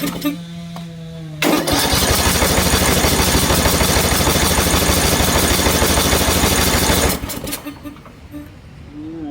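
A troublesome Briggs and Stratton small engine, run with the choke on, cranks briefly and then catches, running loudly and roughly for several seconds before it cuts out and sputters down.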